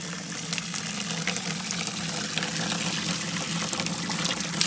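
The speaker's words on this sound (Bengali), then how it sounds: "এবার হাত ধোয়ার জায়গাটা আছে, পুরো ন্যাচারাল ওয়াটার। হ্যাঁ হাত ধুয়ে নেবো।" Cold natural running water splashes steadily over hands at an outdoor washing spot on a North Bengal trip, a continuous close trickle and pour with no voices.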